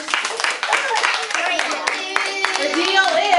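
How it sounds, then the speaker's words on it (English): First-grade children applaud in their classroom: scattered, uneven clapping mixed with chatter and voices, fairly close and lively throughout. "Can we have one more big round of applause?"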